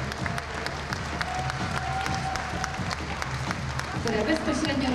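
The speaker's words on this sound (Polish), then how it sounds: "Zapraszam serdecznie, gorąco brawa" A hall audience claps steadily and warmly at a Polish dance championship in combination dances, a dense, even wash of applause lasting throughout, with faint voices and a brief cheer mixed in near the end.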